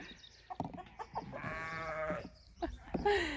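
A young ram lamb bleats in a drawn-out, wavering call on a farm near chickens, with shorter bleats and animal noises around it, close by.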